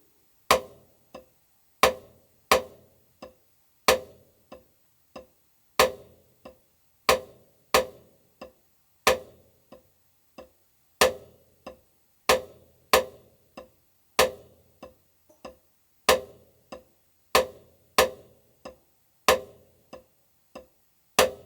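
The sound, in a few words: single paradiddle on practice pad, right hand accented strokes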